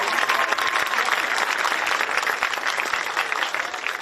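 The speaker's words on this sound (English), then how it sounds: "how about a big round of applause for both teams?" Sustained crowd applause and clapping for both teams at a women's Australian rules football division 2 grand final, Jindalee against Mt Gravatt, loud and steady throughout with no talking.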